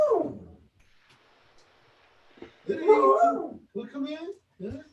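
A dog indoors in the morning gives whining, whimpering yips in short uneven bursts, close by, with a quiet stretch between sounds and a person speaking near the start.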